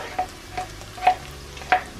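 Garlic and onions cook in butter and olive oil, with a faint low sizzle under three short, sharp scraping bursts of stirring in the pan. No one speaks.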